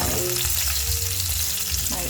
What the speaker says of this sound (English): Frying